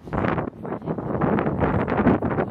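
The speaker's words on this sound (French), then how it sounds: "il y a beaucoup de vent" Strong gusts of wind buffet the microphone outdoors in Hamburg, producing rough, uneven rumbling bursts that rise and fall over a couple of seconds with no other clear sound.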